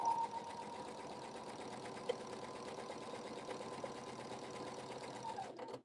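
Husqvarna Viking sewing machine running an edge stitch along a quilt-as-you-go mug rug seam, a steady close whirring hum with fine rapid needle ticking throughout, stopping abruptly at the end.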